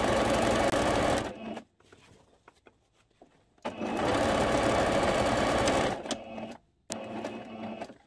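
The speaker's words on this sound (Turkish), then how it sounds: "Aynı şekilde çekerek dikmeye devam ediyorum." Sewing machine stitching elastic onto a viscose skirt waistband, running in two long bursts of rapid steady mechanical whirring and a shorter third burst, with quiet pauses and small handling clicks between, close and loud.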